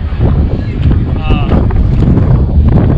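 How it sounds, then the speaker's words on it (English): Strong wind buffeting the microphone at Attica Raceway Park, a loud continuous low rumble and roar with gusty fluctuations and a few faint tonal whines, a voice briefly audible underneath. "It's windy. Very windy."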